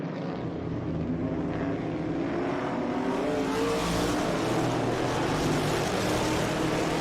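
Race cars including a 1968 Camaro at Laguna Seca roar past, a loud, continuous engine drone that swells and brightens as the cars approach, with no voices.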